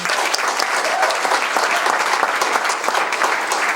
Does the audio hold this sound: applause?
yes